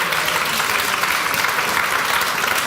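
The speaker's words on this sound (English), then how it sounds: "And an applause" A crowd at an awards ceremony for a climate hackathon in Bratislava breaks into vigorous, continuous applause, many hands clapping at once in a dense, steady roar that fills the room for a few seconds.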